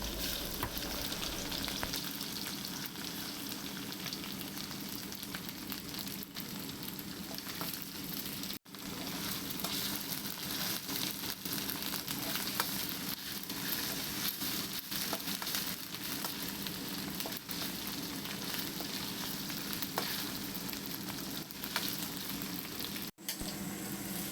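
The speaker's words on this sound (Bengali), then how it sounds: "সেই রসুনটা দিয়ে দিলাম। দিয়ে একটু আমি এটাকে ফ্রাই করে নেবো মিক্স করে নিয়ে।" Chopped garlic and onions sizzling in oil in a pan for cabbage chicken mince, a dense, continuous close crackle and hiss with a couple of sudden brief dropouts, no voices.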